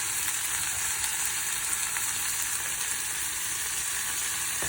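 Beet greens simmering with bone broth in a pan give off a steady, close sizzle and crackle throughout, with a faint stirring texture and no voices.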